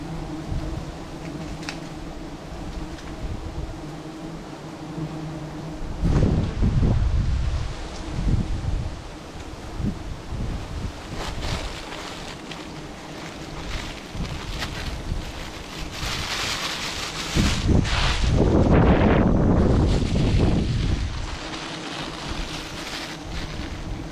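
Strong wind outdoors in rainy, rough weather near choppy water buffets the microphone in a steady roar, with louder gusts surging midway and near the end.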